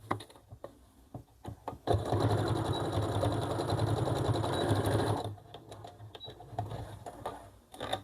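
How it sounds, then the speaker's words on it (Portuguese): A domestic sewing machine stitches a skirt pocket in one steady, fairly loud run of about three seconds, with quieter handling taps and clicks before and after. "A máquina doméstica, ela não tem tanta força assim."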